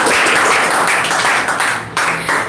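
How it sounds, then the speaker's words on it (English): Steady applause from a class audience clapping for a student after her spoken English turn, a continuous dense wash of claps lasting a couple of seconds with no talk. "So clap for her as well."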